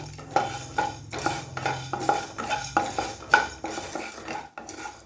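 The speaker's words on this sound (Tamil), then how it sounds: "இப்போ கடலைப்பருப்பும் உளுந்தும் இது கூட ஆட் பண்ணிக்கிறேன். இதே நல்லா வறுத்துக்குவோம்." Chana dal and urad dal dry-roasting in a pan for temple-style puliyodharai, heard as a steady run of scraping stirs with light clinks of a spoon against the metal, close and rhythmic, with no voices.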